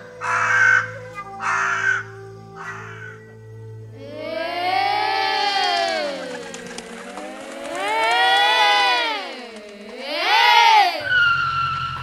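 A voice imitates a crow's caw in long, wavering, drawn-out cries, loud and close, after a few short shouted sounds.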